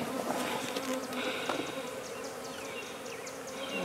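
Honey bees buzz steadily and close by as a colony is moved from a nuc box with old comb into a new hive body, a dense, continuous insect drone with no voices.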